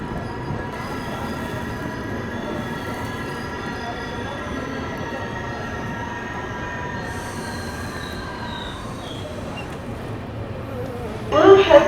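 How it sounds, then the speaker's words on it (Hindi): The Purushottam Express pulls into Bokaro Steel City station, its wheels squealing in long, steady high tones over a rolling rumble, with a brief louder burst of clatter at the end. "चलिए दोस्तों ट्रेन अपनी अराइव कर रही है बोकारो स्टील सिटी।"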